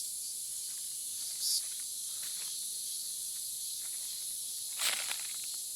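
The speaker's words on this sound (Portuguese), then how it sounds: "Aqui não dá para ver se tem alguma cigarra aqui perto para me mostrar." Cicada singing from high in a tree some distance off, a steady shrill buzzing drone that holds for the whole stretch with two brief louder swells.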